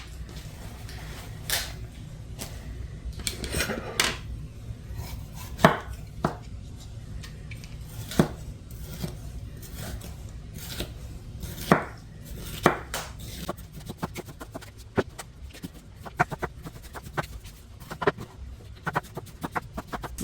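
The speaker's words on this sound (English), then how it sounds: "Now we're just going to slice these into strips." Bell peppers sliced into strips with a knife on a cutting board, sharp irregular chopping taps scattered over twenty seconds against a quiet kitchen background, no speech.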